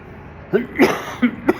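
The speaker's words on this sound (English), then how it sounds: "Now I'm coughing a little bit." Several short, muffled coughs from someone who has been vaping, in a loose sequence, close to the listener, with small pauses between them.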